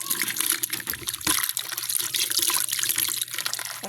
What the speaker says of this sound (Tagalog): Ayan, ang lakas ng tubig.